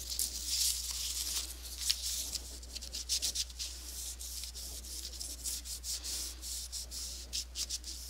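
A lens wipe is rubbed over a pop-up photo album page in soft, steady scrubbing strokes, faint and close, with a low hum underneath and no talking.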